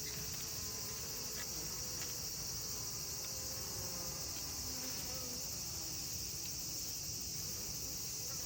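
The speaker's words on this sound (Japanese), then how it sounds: "一番下の重箱の巣落ち防止棒あたりまで蜂が来ています" Japanese honeybees buzz inside a stacked box hive in summer, a dense steady hum that carries on without a break, with no voices.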